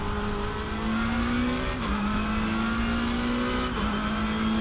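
A race car engine revving hard at Bathurst in a racing video game, a loud sustained whine climbing in pitch, dropping at gear shifts near two and four seconds, then climbing again.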